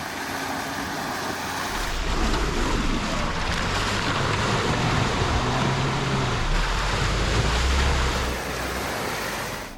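An off-road vehicle overlanding on a forest trail in the Ozark National Forest pushes through a deep mud hole. It gives a sustained, loud rush of churning water and engine rumble with a splashing, wash-like roar throughout.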